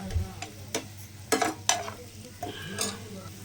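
Onions fry in a pan for quail pepper fry, a soft sizzle punctuated by several sharp scrapes and clinks of a spoon stirring close by.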